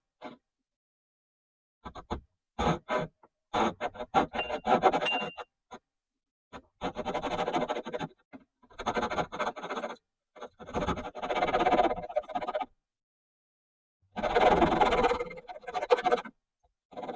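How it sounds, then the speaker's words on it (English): Repeated rasping strokes of a hand saw biting into wood along a guideline, coming in bursts of several strokes separated by short silences. "I started sawing on my guideline to separate the handle material from the handguard"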